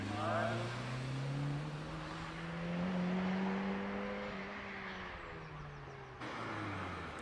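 Early Mazda MX-5, around 1989 vintage, racing up the Prescott hillclimb, its engine note rising and falling through gear changes as it passes, steady and moderately distant.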